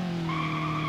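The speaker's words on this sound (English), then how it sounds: "You can do a burnout, front wheel drive burnout, of course." An Ibishu Covet in BeamNG.drive spins its front wheels in a burnout, a loud sustained tire squeal rising in pitch over a steady droning engine note, close and continuous.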